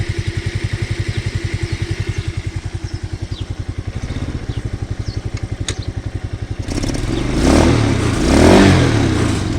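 A small motor idles with a steady rapid chugging, then revs up louder and rougher toward the end, close by and alone with no voices.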